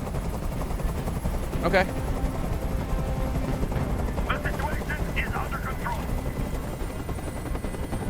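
Steady, low rotor chop of a helicopter hovering overhead drones throughout a tense hostage standoff in the video game Detroit: Become Human, with voices talking over it.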